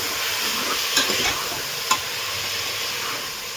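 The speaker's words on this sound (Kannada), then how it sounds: "ಮಿಕ್ಸ್ ಮಾಡ್ಕೊಳ್ಳೋಣ" Village-style fresh cowpea sambar is stirred in a pan, giving a steady close hiss and sizzle broken by a couple of brief scraping strokes of the spoon, with no talking.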